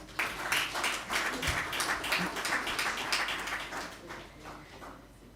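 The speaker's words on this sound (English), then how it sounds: "Please could we give them a round of applause as they come up." Conference audience at a stakeholder meeting applauds as a panel walks onto the stage, a sustained patter of many hands clapping at moderate distance that swells early and gradually tapers off.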